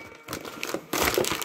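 Gift wrapping paper crinkles and rustles in uneven bursts as a New Year present is opened, growing louder and busier in the second half, close to the listener.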